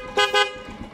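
Two short, bright honks from a 2018 Yamaha YBR 125 motorcycle horn in quick succession, close by, followed by a low idling rumble.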